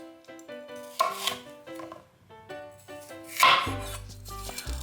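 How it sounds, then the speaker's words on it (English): A knife cuts the membrane away from a pepper piece on a cutting board: a few soft slicing strokes, with clearer cuts near the start and middle, set against steady tonal background music. "Hold each piece vertically and just slice off the membrane right along the edge"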